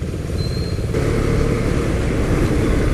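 A Husqvarna Svartpilen 250 motorcycle rides through urban streets, its engine droning loud and steady up close, with a slight rise in intensity partway through.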